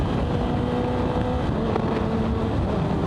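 Kawasaki ZX10R motorcycle pulling hard in first gear, a dense, steady engine and exhaust roar with rising harmonic tones and heavy wind buffeting on the microphone, close and loud throughout with no talking.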